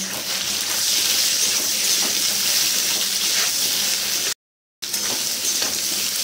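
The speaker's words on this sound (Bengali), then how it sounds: "লাল লাল হয়ে ভাজা হয়ে গেছে, এবার এগুলোকে তুলে নেব।" Taro pieces fry in hot oil, a loud, steady sizzle and crackle that fills the whole clip, broken once by a brief moment of silence.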